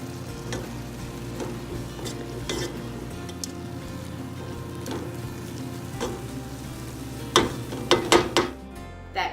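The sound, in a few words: stirring spinach stuffing with cheese, breadcrumbs and olives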